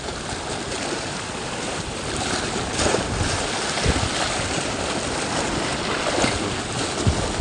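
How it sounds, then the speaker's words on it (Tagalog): Continuous rough roar of wind and rushing surf at Mabini, Batangas, with heavy waves surging and washing close by throughout, no voices. "Kasi malakas ang alon eh."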